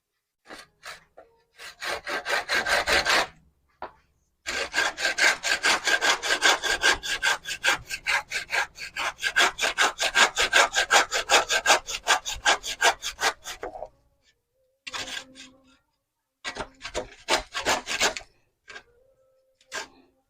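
Handsaw cutting through hard bamboo for a homemade javelin or shot-put training tool, steady rhythmic back-and-forth strokes up close, a short pause, then a long sustained run of strokes and a few final bursts.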